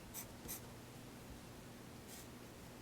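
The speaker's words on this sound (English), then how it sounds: "It's a charcoal pencil." Charcoal pencil scratching across sketchbook paper makes a soft, steady, close rasp, with a few brighter strokes near the start and one more a bit later.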